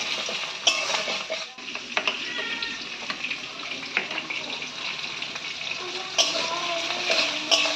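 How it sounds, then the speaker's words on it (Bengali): Chopped onions frying lightly in a pan for chana masala give a steady hiss of sizzling with scattered scrapes and clicks of stirring, close and continuous with no talking. "এবার পেঁয়াজগুলোকে একটু হালকা ভেজে নিতে হবে।"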